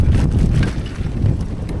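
Strong wind buffets the microphone during a sandstorm in Morocco while cycling, a dense continuous low roar with gusty surges throughout, loud and close.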